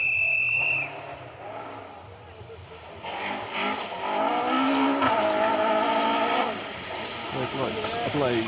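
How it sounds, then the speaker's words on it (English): A rally car on a forest stage in the Forest of Dean, its engine note rising as it approaches and passes, with tyre noise, under wind and a commentator's voice. "As we wait for the next car to come into view."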